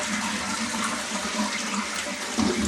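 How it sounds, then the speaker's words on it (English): A toilet flushes right after a bidet seat has been fitted, a steady rush of water swirling and draining close by, with no talking. "just make sure your toilet flushes"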